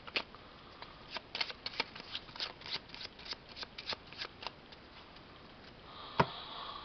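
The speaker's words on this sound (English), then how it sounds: "Really shitty shuffling." A deck of cards is riffled and shuffled in a quick series of crisp flutters and taps, close up in a quiet room, ending with a sharp snap.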